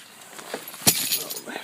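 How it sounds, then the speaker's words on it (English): A set of keys jangles and clinks in cold, fumbling hands, a short metallic burst near and fairly loud, with a voice speaking over it. "as I'm fumbling with the keys."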